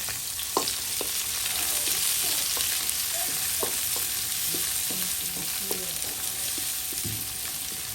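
Garlic fries in a pan with a loud, steady sizzle, punctuated by scattered sharp pops and taps of stirring throughout.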